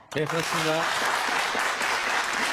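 An audience bursts into loud, sustained applause at a lecture on science fiction films and real technology, right after a brief spoken reply, with clapping filling the rest of the clip.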